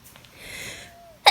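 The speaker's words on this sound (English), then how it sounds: "sneeze again." A single short sneeze bursts out sharply at the very end after a quiet breathy lead-in, heard up close during a day of farm life.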